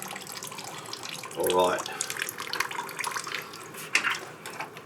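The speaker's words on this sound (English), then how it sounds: "I can see the system filling up with water, especially in the DI resin chamber." Water flows and gurgles into a newly installed RODI filter system, a soft trickle that surges briefly, with someone speaking a couple of words and some clunks nearby.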